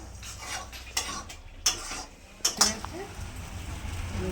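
Potatoes go into a pot of banana-flower fritter curry with several distinct clattering knocks and scrapes of a utensil against the pot, followed by a soft background simmer.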